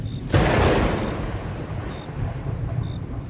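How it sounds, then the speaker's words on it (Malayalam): Heavy rain falls with a single loud crack of thunder that rumbles and slowly fades over a continuous, hissing downpour. "എന്തൊരു ഒടുക്കത്ത മഴയായത്."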